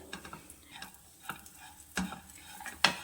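Grated coconut is stirred and roasted in a pan for homemade gond laddoos, giving soft scraping stir strokes with faint sizzling and a few sharper clinks of the spoon against the pan, quiet and close.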